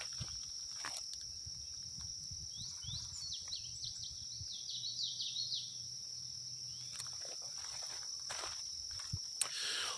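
Crickets trill softly beside a lake while a few birds chirp in short bursts, all quiet and distant, with an occasional faint rustle nearby.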